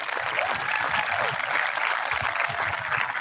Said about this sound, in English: A nice round of applause for our Valence Sal.